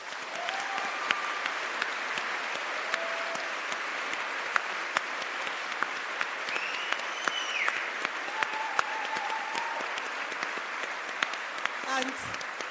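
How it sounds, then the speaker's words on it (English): Around 750 audience members at a live arts event applaud in sustained, dense clapping that fills the whole stretch evenly, heard from within the hall. "750 people tonight had heard that and were clapping and shouting"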